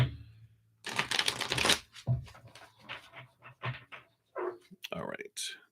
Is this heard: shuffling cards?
yes